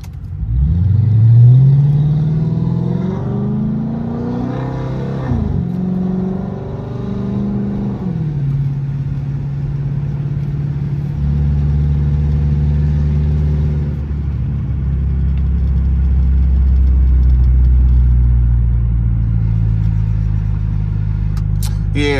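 A 2013 Chrysler 300C Hemi V8 revs hard while driving, its engine note swooping up and down through gear changes before holding a deep, steady rumble, loud and close from inside the car.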